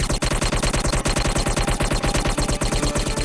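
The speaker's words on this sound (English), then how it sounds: "I'm sorry for all the guns that are just shooting." Guns in a zombies video game fire as an unbroken fast automatic stream, steady and evenly spaced shots with no pauses, loud and close.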